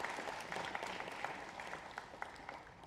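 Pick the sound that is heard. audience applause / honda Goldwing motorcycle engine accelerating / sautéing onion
audience applause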